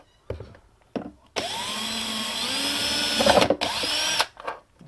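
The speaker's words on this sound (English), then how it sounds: "let's get our little battery drill here with the drill bit on the end, and we're just going to pop a hole" Small battery drill with a bit boring a hole straight through, a few short trigger blips and then a loud steady whine that bogs down briefly as the bit bites before cutting off.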